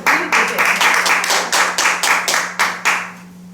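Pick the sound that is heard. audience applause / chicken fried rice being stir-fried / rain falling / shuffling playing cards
audience applause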